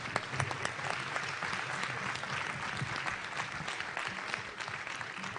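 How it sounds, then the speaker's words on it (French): A church congregation at a French CMCI shared worship service claps steadily and loudly for several seconds, a dense, continuous wash of hands with no pauses. "Acclamons pour le Seigneur."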